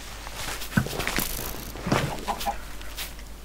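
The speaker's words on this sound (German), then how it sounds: "Es klemmt hier nämlich ein Huhn drin." Short clucks from a Minecraft chicken stuck in place, over a steady background hum, with a few soft footstep-like taps mixed in.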